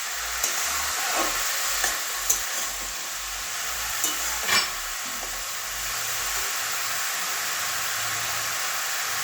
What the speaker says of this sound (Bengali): এবারে ভালো করে নুনটা মিশিয়ে দেবো